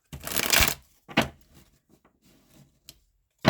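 A brisk riffle of tarot cards being shuffled, followed by softer taps and shuffles of the deck, close and quiet.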